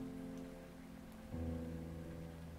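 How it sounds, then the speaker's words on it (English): Steady rain with a low rumble in the cozy cafe scene of the video game Rainswept, a continuous even wash that swells slightly louder partway through, with no voices. "I love the sound of thunder and the rain."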